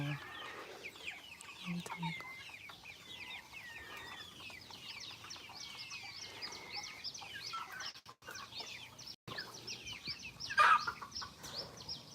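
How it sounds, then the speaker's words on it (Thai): Chickens cluck steadily at a chicken coop, a dense overlapping chatter of many birds with a brief louder squawk near the end and faint background noise. "มาดูเล้าไก่ มาอาหารไก่"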